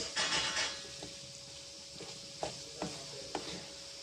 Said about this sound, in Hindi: ये आपने इसे अंडों को फ्राई करना है अच्छे से।